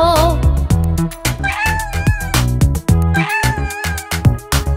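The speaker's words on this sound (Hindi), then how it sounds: "उस खेत में एक बिल्ली थी, इया इया ओ। यहाँ म्याऊं म्याऊं करे, वहाँ म्याऊं म्याऊं करे" A cartoon cat meows repeatedly in an Old MacDonald children's farm song, with wavering mews over a steady beat of drums and bright backing music.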